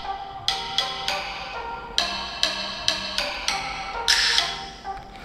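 Music plays from the speaker of an HMD Skyline phone with its audio boost feature switched on: bright, plucked or struck notes repeat in a steady rhythm, moderately loud, with no voices.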